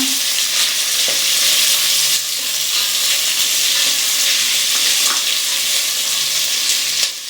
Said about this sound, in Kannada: ಇದಕ್ಕೆ ಉದ್ದುದಕ್ಕೆ ಹಚ್ಕೊಂಡಿರೋ 4 ಈರುಳ್ಳಿ ಹಾಕೊತಾ ಇದ್ದೀವಿ, ಮೀಡಿಯಂ ಸೈಜ್ಗೆ